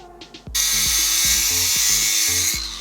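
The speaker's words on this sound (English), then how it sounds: "Now what I need is a piece of steel rod, which I will insert here, about 1/4 of an inch diameter, maybe an inch long, which I will now turn on my lathe." A small steel rod about a quarter inch across, being turned on a metal lathe: a sudden loud, steady high whir of cutting that holds for about two seconds, close by, with a low motor hum under it and no talk.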